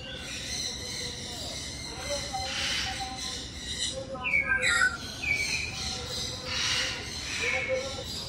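Caged birds, mynas and macaws among them, trade squawks and chirps, with a burst of sharp, harsh calls near the middle over a constant background hiss, fairly close.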